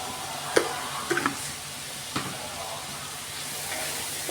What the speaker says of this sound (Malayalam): ഉള്ളിയൊക്കെ ഇങ്ങനെ വഴറ്റി കൊടുക്കുകയാണ് കേട്ടോ